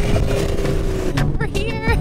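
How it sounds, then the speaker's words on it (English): A scooter engine on a ride in Koh Lanta, Thailand, revs and whines in rising pitch sweeps during a wheelie, loud and close, with a voice talking over it. "I'm gonna pop a wheelie."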